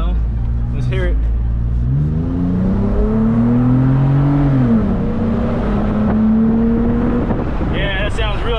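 A Toyota 4Runner engine fitted with a TRD intake and exhaust revs up hard, its note climbing and holding high before easing off, loud and close, with brief voices at the start and end.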